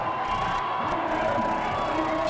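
Spectators at a 1999 German championship cheering a competitor's run up a steep grade, a continuous dense roar of crowd noise with shouts, steady and loud from start to end.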